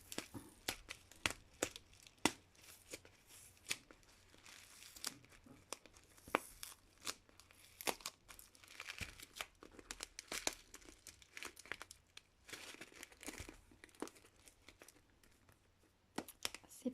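Packing tape being torn and peeled off a cardboard box of diamond painting rhinestones in repeated sharp rips and crinkles, close and fairly quiet, with no talking.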